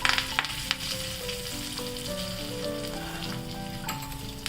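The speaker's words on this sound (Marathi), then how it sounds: "तेल गरम करून घेतलेलं आहे. याच्यामध्ये मी मोहरी घालते, हिंग, थोडीशी उडदाची डाळ," Mustard seeds, asafoetida and urad dal crackling in hot oil for a tempering, steady close sizzle with sharp popping seeds near the start and the end.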